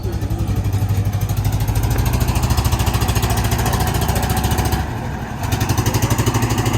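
A trawler boat's engine chugs on the river at a busy ghat, a loud, close, rapid rhythmic thumping that dips briefly and resumes, with voices faintly underneath.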